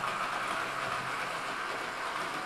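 An S-gauge model train runs steadily along its track past an acceleration sensor, a continuous close rolling whir with a broad hiss that holds even throughout, with no voices.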